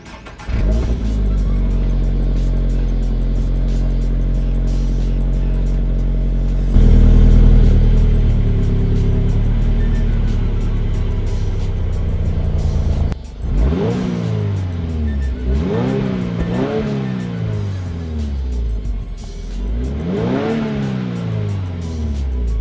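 A Subaru BRZ/GR86 four-cylinder breathing through a budget aftermarket exhaust holds a steady, loud idle drone, then jumps to a higher pitch before firing off a series of sharp rev blips that rise and fall, close up and with no talking.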